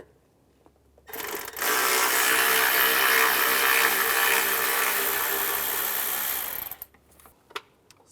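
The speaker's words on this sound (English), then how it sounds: "Use a T25 socket. Remove this bolt." A powered T25 socket driver spins out a fuel line bracket bolt on a 2004-2010 BMW X3, a loud continuous whir lasting about six seconds, preceded and followed by faint clicks.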